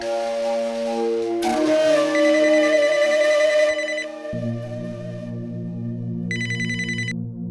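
A telephone ringtone in a Hindi TV comedy episode rings out as a bright, repeating electronic tone over a steady musical background, with a short, sharper burst of ringing near the end.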